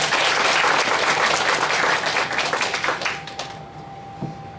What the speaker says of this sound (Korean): 박수 한 번 더 보내주시기 바랍니다